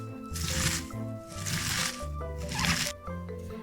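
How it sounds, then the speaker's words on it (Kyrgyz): Sliced cabbage with a teaspoon of salt being squeezed and crushed by hand in a kitchen, giving repeated wet squishing crunches in three or four rhythmic bursts over a quiet background. "капустаны өлтүрүп алабыз."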